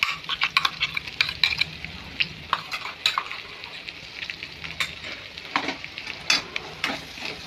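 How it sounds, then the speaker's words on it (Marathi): Masala paste (wataan) sautéed in oil for a fish curry, with steady sizzling and rapid, repeated spoon scrapes and taps against the pan, close and fairly loud. "वाटण आता चांगलं तेल सुटेपर्यंत परतून घेऊ"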